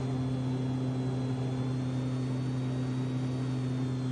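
Airliner jet engines roar steadily as the plane climbs after takeoff in the X-Plane 11 flight simulator, a continuous loud drone with a strong low hum and a faint high whine, unchanging throughout.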